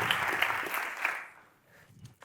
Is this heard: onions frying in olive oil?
no